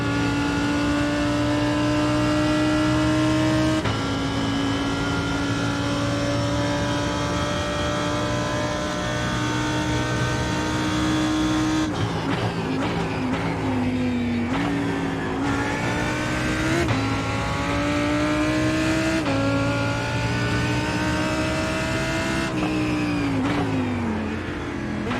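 Race car in an IMSA multiclass race at Road America in a racing game, engine screaming at full throttle for a long pull, then rapid upshifts and revs that drop and climb again through the gears, loud and close throughout.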